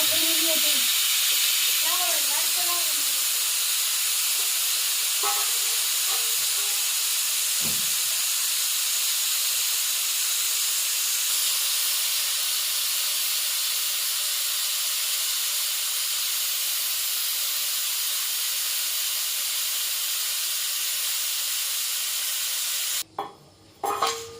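A pressure cooker on a gas stove hisses steam in a long, loud, steady jet while boiling potatoes, with a voice speaking briefly at the start and the hiss carrying on alone until a sharp break near the end.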